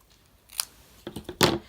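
Scissors snip a piece of material in half, a few crisp close cuts with a short pause and then a quick series of snips ending in a louder final cut, with no talk.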